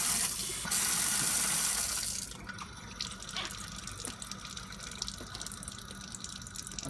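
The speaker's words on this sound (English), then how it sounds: "Unfortunately, you have to wait a while for the water to come out of the aspirator once you actually turn the faucet off." Water from a lab faucet rushes loudly through an aspirator for about two seconds, then drops to a quieter, steady trickle with occasional drips.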